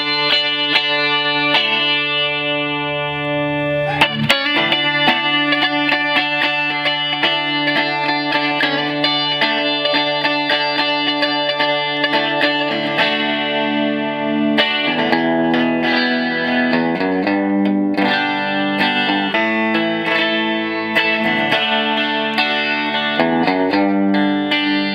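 A 1967 Rickenbacker 360-12 twelve-string electric guitar played through its bridge pickup alone, ringing bright jangly chords and arpeggios with effects and chorus-like shimmer, loud and continuous for the whole stretch with no talking.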